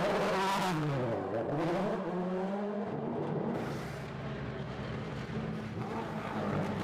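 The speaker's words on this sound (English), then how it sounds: "Cars going through the pits" DTM touring race cars at Spielberg running through the pit lane, engines whining and revving as they pass close by one after another, with pitch sweeps as each car goes past.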